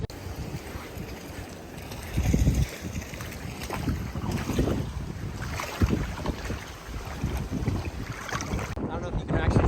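Heavy wind buffets the microphone in loud, rumbling gusts at the GeoSea sea baths in Husavik, Iceland, with water and boat noise mixed in and faint voices now and then.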